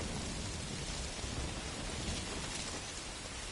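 Steady, dense rainfall in the rainy night setting of Metal Gear Solid V: Ground Zeroes, a continuous broadband hiss of heavy rain with a faint low rumble beneath, even and unbroken throughout.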